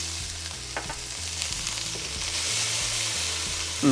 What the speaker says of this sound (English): It's basically stir frying here in our saute pan